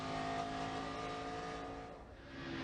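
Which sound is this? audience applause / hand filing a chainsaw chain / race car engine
race car engine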